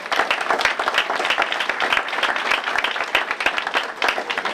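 A crowd at a community celebration claps together, a loud, continuous burst of applause with uneven rhythm that holds steady throughout without fading.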